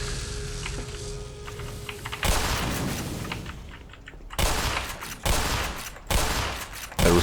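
Repeated shotgun blasts in Black Mesa, several loud booming shots spaced about a second apart with ringing tails, building into a rapid series near the end, with no voices.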